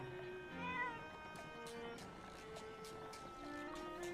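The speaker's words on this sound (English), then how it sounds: "Look at the kitty." A cat meowing in the video game Animal Crossing New Horizons; a few short, clear meows over a steady backdrop of gentle in-game music.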